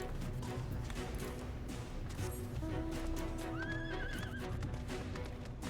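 A horse whinnies loudly over steady clopping hooves and busy game-like background sounds, the neigh rising and wavering for a couple of seconds.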